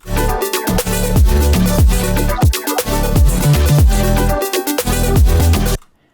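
Loud electronic bass music with punchy beats and dense synth layers playing continuously, then stopping abruptly just before the end.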